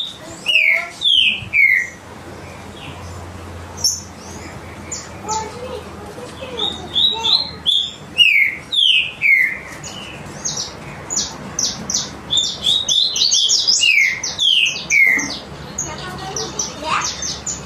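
A captive green-winged saltator (trinca-ferro) sings loud, close repeated whistled phrases in quick bursts, pausing between them, with short rapid runs of notes and light background noise.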